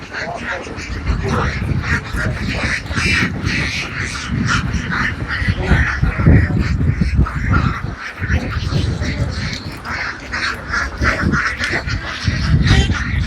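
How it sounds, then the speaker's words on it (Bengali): Thousands of ducks on a duck farm quack in a loud, dense, continuous chorus, with overlapping honking calls close by throughout. "হাজার হাজার হাঁস, সেগুলো এখন খোলা আকাশের নিচে মাঠের মধ্যে নিয়ে যাবে।"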